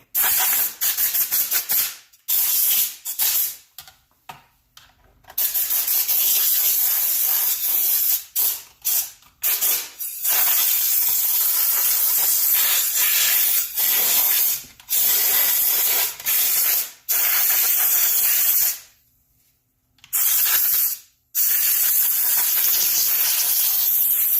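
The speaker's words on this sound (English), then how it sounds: "these vents in here, we'll just blow everything out" Compressed air blasting dust out of the vents of a string trimmer, loud hissing bursts of varying length separated by short silent pauses, close and harsh, no talking.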